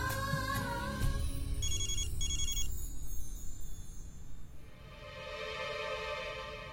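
A telephone ringtone rings repeatedly in a French-dubbed TV drama scene, its electronic trill pattern loud over a background music score before fading out.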